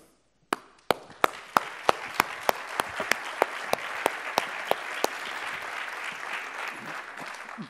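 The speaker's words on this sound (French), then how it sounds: "Puis-je vous demander de poursuivre vos applaudissements" Audience at a congress bursts into applause: a few sharp, separate claps first, then a rapidly building, sustained wash of clapping from a large crowd, with several louder claps punctuating it.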